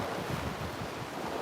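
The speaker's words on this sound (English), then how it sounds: "the song of the waves is lovely" Ocean surf washing onto a nearly empty beach, a steady broadband rush of breaking waves mixed with wind noise, continuous and moderately loud with no voices.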